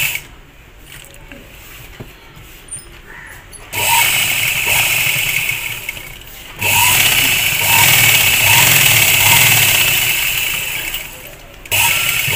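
An electric sewing machine stitching trouser pieces runs in loud bursts, a whirring motor hum starting and stopping several times, with quieter pauses and faint handling between runs.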